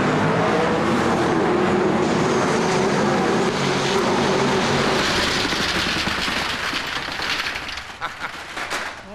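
V8 race car engines roaring together in a loud, dense, sustained rumble that stays strong before thinning out slightly near the end.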